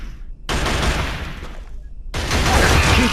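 Sustained gunfire in the Killzone video game: a loud, dense fusillade of rapid shots that starts abruptly, breaks off briefly in the middle, then resumes even heavier, close and unbroken.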